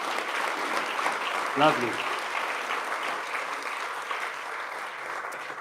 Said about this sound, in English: Would you mind a quick round of applause for our 25 judges?